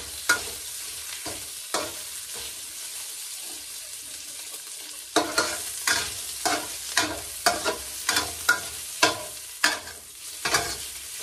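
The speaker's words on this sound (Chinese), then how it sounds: "把这个肉爆香一点" Pumpkin and meat are stir-fried in a wok, with a low sizzle at first, then a quick regular run of loud spatula scrapes and knocks against the wok over a constant frying hiss.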